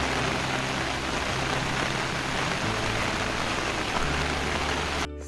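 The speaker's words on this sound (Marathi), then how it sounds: "एवढी मोठी छत्री आणि पावसात चालण्याची मजा काही वेगळीच" Steady rain patters close by on a large umbrella and the surrounding road during a walk in Konkan, a dense, even hiss with no talking.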